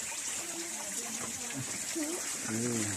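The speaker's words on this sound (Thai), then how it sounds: "เสียงน้ำตก" Steady rushing roar of a waterfall at Hin Naka, Bueng Khong Long district, Thailand, fills the scene continuously, with people's voices talking faintly over it.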